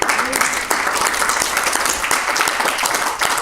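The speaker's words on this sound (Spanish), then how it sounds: "Denle un aplauso al Señor" A church congregation claps together in sustained applause during a Spanish-language sermon, a dense steady patter of many hands with some voices mixed in.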